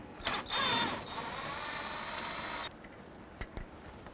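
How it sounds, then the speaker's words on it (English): Bolts on a 2002-07 Jeep Liberty radiator are driven out with a 10mm socket, a steady close whirring that runs for about two seconds, then a couple of sharp clicks near the end, with no voices. "Using a 10mm socket, you want to go ahead and remove this bolt right here, and this one down below here, and repeat for the other side."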